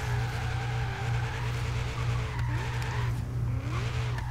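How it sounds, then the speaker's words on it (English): Tires skid and squeal in a sustained drift as a car's engine drones steadily throughout, sliding around a roundabout in the Forza Horizon 3 racing game, with no voices over it. "I drifted the whole round about like 10 times"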